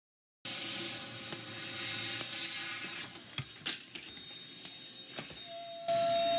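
A hole saw grinds steadily through steel plate for a Jeep YJ rear bumper, a continuous close whine and rasp with a few sharp clanks and catches near the end, no talking.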